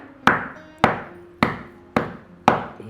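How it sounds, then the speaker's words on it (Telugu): Jaggery being crushed into pieces for peanut chikki: five sharp, loud pounding strikes spaced roughly half a second apart, each a hard thud with a brief ringing tail, no talk. "1 కిలోన్నర బెల్లం బాగా ముక్కలుగా నలగొట్టుకోవాలి"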